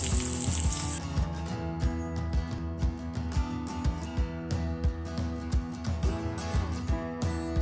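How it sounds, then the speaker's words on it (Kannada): Raw appam manchuri sizzles and fries in ghee in a pan, a steady crackling hiss with rhythmic clinks and scraping of a spoon stirring, close and fairly loud without any talking. "ಇದೀಗ ಚೆನ್ನಾಗಿ ಫ್ರೈ ಆಗಿದೆ."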